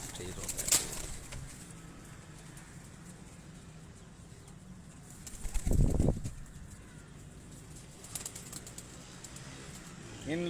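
Soft cooing of breeder pigeons in Sheikhupura and a brief burst of wing flapping midway, set against faint outdoor background noise and distant murmuring.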